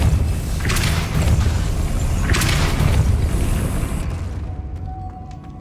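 Depulso force spell cast in the Hogwarts Legacy video game, two whooshing blasts with dull booming thumps over a steady low game rumble, the second bursting about two seconds after the first, then fading toward quiet.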